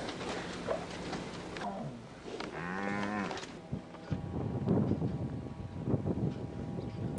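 Cattle on a California dairy farm low with one long, drawn-out moo near the middle, amid steady wind noise and a busy livestock background.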